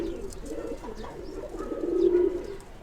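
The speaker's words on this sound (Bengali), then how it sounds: "দেখুন কবুতরগুলো আপনি একটু সময় নিয়ে দেখুন" Pigeons cooing in a loft, low throaty coos repeating close by, with faint chirps and rustling behind them.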